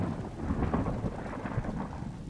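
Thunderstorm with steady rain, a continuous broadband wash with low rumbling throughout, moderately quiet and even, no voices.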